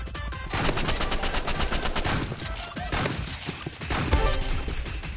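Rapid bursts of gunfire in a video game, loud and dense throughout the match, with repeated sharp shots following one another closely; sniper rifle fire during a four-versus-four round, no clear speech.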